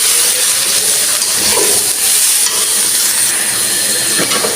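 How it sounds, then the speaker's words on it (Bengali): Turmeric and chili powder frying with poultry chicken in a pan give a loud, dense, continuous sizzle and hiss with occasional stirring scrapes, close up and steady. "এখন সব মশলা দিয়ে দিব, হলুদের গুঁড়া মরিচের গুঁড়া সব আমি দিয়ে দিচ্ছি।"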